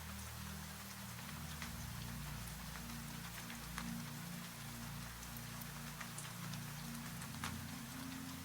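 Steady rain falls evenly and softly throughout, a constant hiss with scattered drops and a low drone underneath, with no voices.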